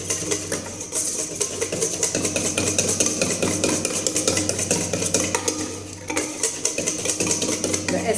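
Egg being whisked into chocolate loaf cake batter in a bowl, a steady busy clatter of whisk against the bowl with rapid rhythmic scraping, close and continuous, no talking.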